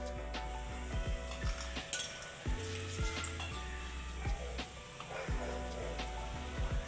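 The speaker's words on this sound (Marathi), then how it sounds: "आता याच्यामध्ये थोडीशी मोहरी टाकायची." Mustard seeds sizzling and popping in hot oil in a wok for a Marathi modak amti tempering, a steady close crackle with occasional clinks of a utensil.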